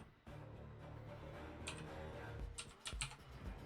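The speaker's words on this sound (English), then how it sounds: "I've got the most obnoxiously loud keyboard" Loud computer keyboard typing during a Call of Duty game stream, a dense run of clicky keystrokes with a few sharper, heavier key hits standing out near the end.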